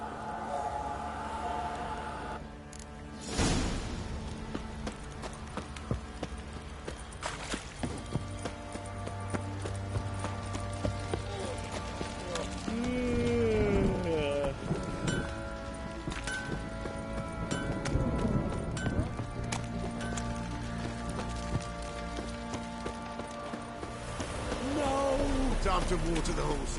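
Horse hooves clip-clop in The Witcher 3 game, recurring in uneven bursts at moderate level beneath game music, sound effects and occasional spoken voices.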